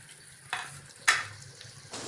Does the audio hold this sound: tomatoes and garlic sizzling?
yes